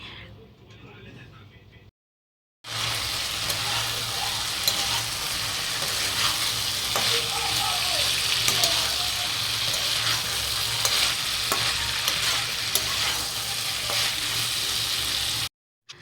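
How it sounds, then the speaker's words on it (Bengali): Flat-cut potatoes and yardlong beans sizzle steadily in a frying pan while being stirred, a continuous close crackle with faint scraping, after a short quiet start. "এবার আমি এটা ভালো করে নাড়াচাড়া করব, মানে একটু ভাজা ভাজা করে নেব এর সাথেই"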